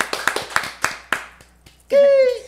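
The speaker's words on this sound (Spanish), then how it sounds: "una invitada que se merecen un gran aplauso" A handful of sharp, scattered hand claps from a small group welcome a guest onto a Spanish-language talk show, fading after about a second before a voice breaks in loudly near the end.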